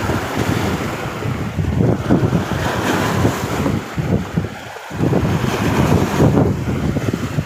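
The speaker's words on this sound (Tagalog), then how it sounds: "Tapos ng hampas ang alon." Ocean waves surge and crash against the shore near a flooded hut, a loud continuous roar of surf buffeted by heavy wind noise on the microphone, with brief lulls between breakers.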